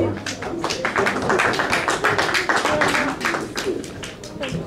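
A small open mic audience at The Brew House Gallery claps for a performer, with a crisp, fairly close patter of many hands that stays steady throughout, with some voices mixed in.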